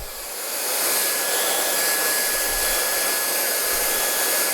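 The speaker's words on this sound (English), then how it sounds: "So just using my hands and working the airflow using the nozzle on the hairdryer." A hair dryer fitted with a nozzle blows steadily while hair is dried in sections; the close, loud whoosh swells up in the first second and then holds constant with a faint high whine.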